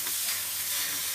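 Garlic and chilies frying in a pan give a dense, steady close-up sizzle with no other sounds.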